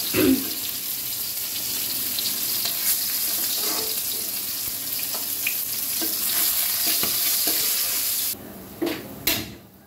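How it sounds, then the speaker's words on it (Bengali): Onion and garlic fry with cumin seeds in oil left over from frying fish, giving a steady close sizzle with scattered stirring clicks before the sizzle drops away near the end. "ওই তেলেই কিন্তু আমি জিরা ফোড়ন দিয়েছি, আর দিয়েছি হচ্ছে পেঁয়াজ রসুন"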